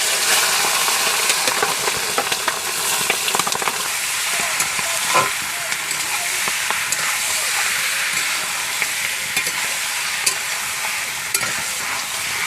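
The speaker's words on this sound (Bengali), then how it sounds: "এখন ম্যারিনেট করা মাংসটা দিয়ে দিচ্ছি।" Marinated country chicken curry meat hitting a hot pan, giving a loud, steady sizzle and hiss with stirring scrapes running throughout.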